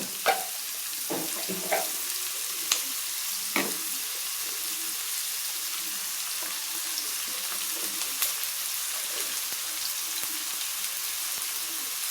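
Onion and garlic fry in a pan for a North Karnataka-style dish, a continuous bright sizzle with scattered stirring scrapes and clinks, fairly close and steady throughout.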